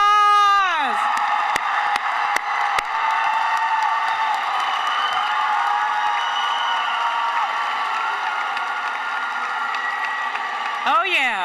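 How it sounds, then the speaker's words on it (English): A graduation crowd for the 2026 class claps and cheers in one loud, steady roar with whoops and shrieks. It lasts the whole stretch and swells again at the end. "Let's give these 2026 graduates a huge round of applause."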